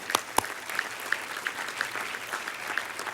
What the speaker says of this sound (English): We should all applaud them.